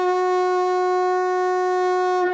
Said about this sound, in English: This is a plumpet, and it sounds like this.